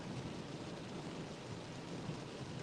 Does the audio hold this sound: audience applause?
no